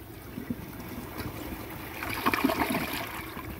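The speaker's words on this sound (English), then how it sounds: "So, this is the water line. Give it a flush." A 2007 Gerber Allerton toilet flushing, a steady rush of water that swells louder partway through and keeps gurgling, heard fairly close with no talk.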